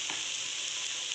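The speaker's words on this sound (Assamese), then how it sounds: "এনেকৈ মই অলপ সময় ভাজি আছোঁ" Spices with chilli and turmeric fry in a pan, giving a steady, close hiss of sizzling oil with one faint stirring scrape near the start, alone and quiet.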